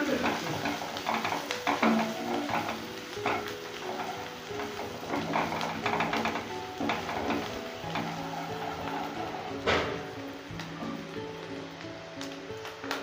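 A spiced khoira ilish fish mixture is stirred in a pan, with busy, uneven scraping and clinking of a spoon against metal over a faint sizzle throughout.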